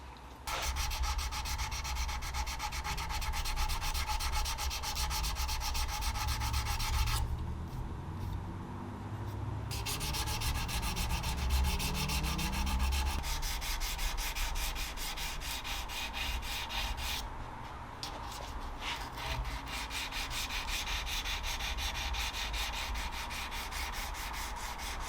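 Hand sanding a high carbon steel knife blade with 220 grit sandpaper: close, steady back-and-forth rasping strokes, continuous apart from two short pauses, with no talking.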